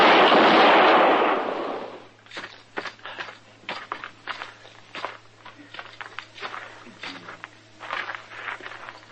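Gunshots in an old-time Western radio drama: a loud opening blast, then a string of sharp cracks and ricochet-like bursts at irregular intervals over a steady low hum, with no voices.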